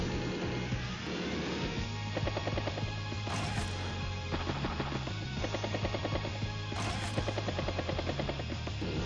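A T-copter unit from the game Advance Wars: Days of Ruin, with a steady, dense rotor chop throbbing loud and continuous behind game music and effects.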